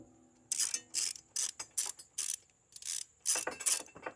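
A ratchet wrench backs out a long 13 mm bolt from a Ryobi 48V RM480 lithium mower, sounding as about eight close, loud bursts of clicking separated by short pauses, with no talking.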